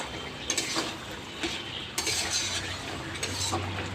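Ground spice paste being stirred into shukto, a Bengali vegetable curry, in a pan, with close scraping and clinking of a spoon against metal over a low sizzle, repeated strokes in irregular rhythm.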